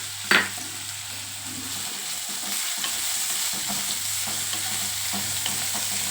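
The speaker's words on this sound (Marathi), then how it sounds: "आपण याच्यामध्ये कांदा घालूया आणि ब्राऊन कलर येईपर्यंत त्याला छान फ्राय करून घेऊया।" Chopped onions frying in hot oil in a pan and being stirred, for a restaurant-style lasooni methi: a close, steady sizzle with a sharp scrape of the spoon at the start and soft stirring sounds throughout.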